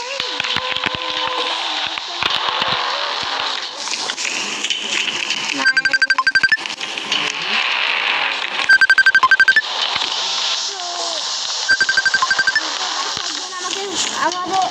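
A phone ringtone for an incoming call chimes in three short repeated bursts over loud, busy game sounds, with a voice speaking throughout.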